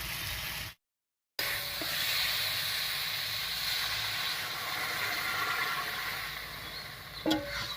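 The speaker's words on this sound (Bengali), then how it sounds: "মশলা একসঙ্গে করে খুব ভালোভাবে কষে গেছে এবারে ঝুলের জন্য জল দেবো" Water poured into well-fried spice masala for a thin Bengali fish curry with ridge gourd and potato brings a loud, steady hiss and sizzle lasting several seconds after a brief gap, with a small clatter near the end.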